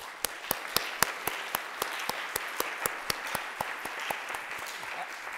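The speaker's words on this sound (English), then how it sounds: "Let's give a round of applause to." Audience applause at the close of a symposium on artists and archives, many hands clapping steadily in a hall, with a few sharp individual claps standing out above the moderate wash.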